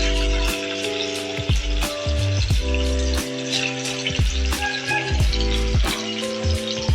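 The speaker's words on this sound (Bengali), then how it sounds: "রুই মাছটা ভাজা হচ্ছে।" Rohu fish fries in hot mustard oil in a pan, a steady close crackling sizzle broken by regular rhythmic knocks and tonal clatter from the pan or stove, with no one speaking.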